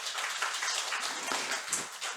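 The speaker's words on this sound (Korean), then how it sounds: "격려의 박수 하겠습니다" Church congregation at a Sunday morning service clapping in encouragement for volunteers, a soft, somewhat distant patter of hands that swells slightly and then fades.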